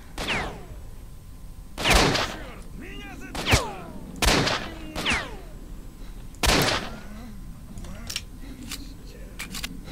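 Loud gunshots from a weapon in the video game S.T.A.L.K.E.R. Shadow of Chernobyl, five or six sharp blasts spaced irregularly with short echoing tails, plus a few fainter pops and background game ambience.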